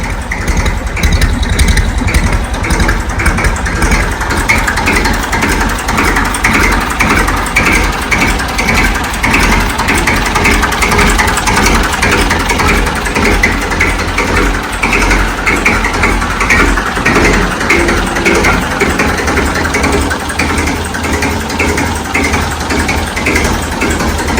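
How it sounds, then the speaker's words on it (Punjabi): Massey Ferguson 35 tractor engine idling close by, running loud and steady throughout with a rough mechanical clatter and no voices. "ਤੁਸੀਂ ਸਟਾਰਟਿੰਗ ਚੈੱਕ ਕਰ ਸਕਦੇ ਹੋ ਇਸ ਟਰੈਕਟਰ ਦੀ ਆ ਸਾਊਂਡ ਕੁਆਲਿਟੀ ਬਣੀ ਐਨ"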